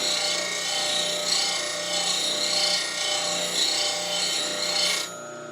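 A skew chisel is sharpened with its bevel drawn across the tool, making a steady, loud abrasive grinding hiss close by that runs continuously before cutting off abruptly near the end.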